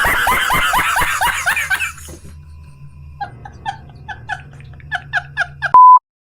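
A loud, sustained censor beep tone sounds near the end, following laughter and snickering.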